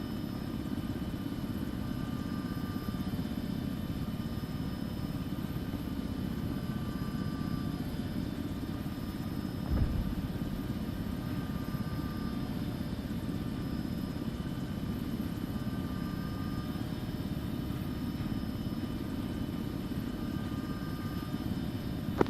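A helicopter in ArmA 3 flies with a steady, moderately loud rotor and engine drone, continuous and even throughout, with a brief thump near the middle and no voices.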